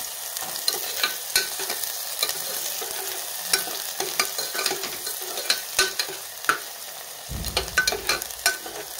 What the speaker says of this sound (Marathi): कांदा आपल्याला छान परतून घ्यायचा आहे.